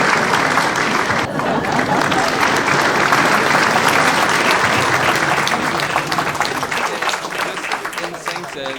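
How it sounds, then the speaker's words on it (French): A crowd applauds with loud, dense clapping that carries on steadily before gradually thinning toward the end, with a voice talking over it. "on applaudit encore une fois"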